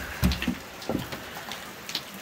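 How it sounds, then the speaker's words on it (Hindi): Rain patters softly and steadily outdoors in the mountains of Kashmir, with a few scattered louder drops landing near the microphone and no voices. "और बारिश भी हो रही ये देखें"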